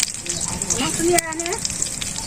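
Cumin seeds dropped into hot oil give a brief, close crackling sizzle that flares up over a couple of seconds, with some faint voice and background noise.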